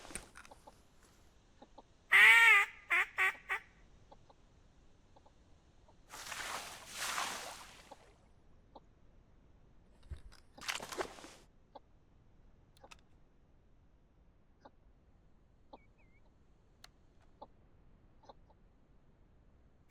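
A short burst of quacking duck calls in a duck hunting simulator video game stands out, followed by two soft whooshing rushes against an otherwise quiet background.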